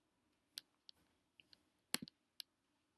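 Mouse clicks on a computer file, a scattering of soft, sharp clicks at irregular intervals in a quiet room, one click slightly louder than the rest, with no talking.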